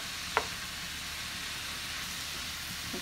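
Frying cabbage with chopped bacon stirred in gives a steady, even sizzle throughout, with one brief sharp utensil clink near the start and no talking.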